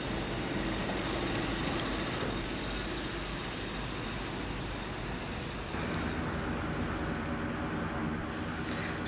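Low, steady rumble of a train running nearby at a road level crossing near Morar in Scotland, a continuous mechanical drone with faint clanks, no voices.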